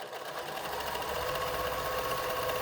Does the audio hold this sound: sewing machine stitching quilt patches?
yes